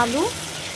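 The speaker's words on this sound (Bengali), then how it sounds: "ওই মাছ ভেজে তুলে নেওয়ার পরে ওই তেলের উপর দিয়ে দিয়েছি জিরে ফোড়ন" Cumin seeds tempering in hot oil left over from frying fish, a brief steady sizzle beneath a short rising voice-like tone at the start.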